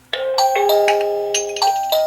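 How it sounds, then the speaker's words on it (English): A Meco Eleverde 2K smart video doorbell, model J5, chimes loudly and close by, a multi-note electronic melody of several bright tones following a brief quiet start. "Now, when someone rings the doorbell here, you'll hear it not only ring here, you're also going to hear my phone go off."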